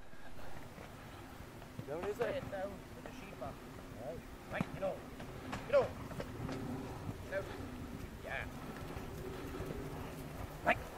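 Hunt horses and hounds of a Kilkenny hunt crossing a river, with scattered splashing, hoof clatter and occasional hound cries in the open air, while people talk in the background.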